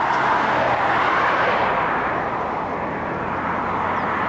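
Steady road traffic rumbles past as a broad, continuous wash of vehicle noise, moderately loud and slowly fading toward the end, with no voices over it.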